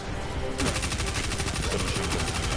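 Rapid sustained fire from the Edgewise submachine gun in Destiny 2, a dense unbroken rattle of shots that begins about half a second in and runs loud and close to the end.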